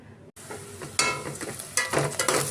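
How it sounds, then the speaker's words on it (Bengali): Onions fry in hot oil in a wok, giving a brief bright sizzle that swells in bursts as they are stirred, close and fairly loud after a short cut of silence. "দেখো পেঁয়াজটা বেশ ভাজা ভাজা হয়ে গেছে"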